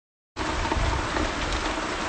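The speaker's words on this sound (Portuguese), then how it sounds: "Tome chuva, fazenda Viana." Steady, dense rain pours down on a farm after a short silence. It makes a continuous broadband hiss that stays loud and even, with no voices.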